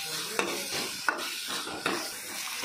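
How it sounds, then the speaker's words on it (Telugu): Turmeric being stirred into a frying mixture in a pan for an Andhra-style fish curry, steady sizzle with three distinct scraping strokes of the spoon, close and alone. "ఇప్పుడు దీంట్లో 1/2 టీ స్పూన్ పసుపు వేయాలి. వేసి బాగా మిక్స్ చేయాలి."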